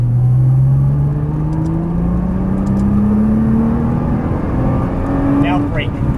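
Nissan GT-R accelerating hard down a race track straight, its loud engine droning in a steady, rising pull through the gear, with a voice speaking over it.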